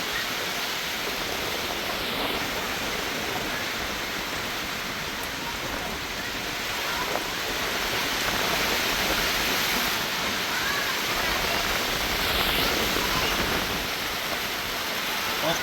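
Steady broadband rain with wind, a dense continuous hiss throughout with slight swells in intensity, close and fairly loud, no talk over it.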